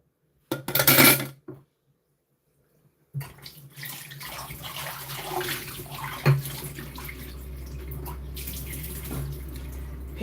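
Ackee, callaloo and green banana are rinsed and washed for vegan cooking, with running tap water splashing, a brief burst, a pause, then steady water flow and faint clinks of dishes.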